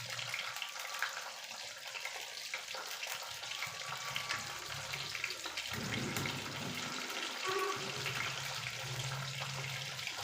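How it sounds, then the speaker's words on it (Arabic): Hot oil sizzles steadily in a frying pan while mombar sausage casing, just lifted warm from its broth, is fried; a continuous close crackling hiss with faint clinks, no talking. "لازم الزيت يكون مقدور، سامعين صوته؟"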